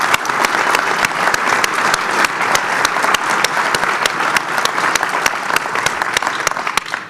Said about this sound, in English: I just want us all to give a very big round of applause to Jim